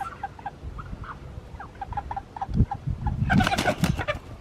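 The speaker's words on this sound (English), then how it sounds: "You're good chickens." Several meat chickens cluck softly in short, scattered bursts, growing busier and louder toward the end with a rustle of movement.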